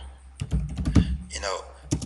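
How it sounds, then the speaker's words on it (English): Someone types on a computer keyboard in a short burst of key clicks and thunks while a voice talks over part of it, close and moderately loud. "And then you start typing again."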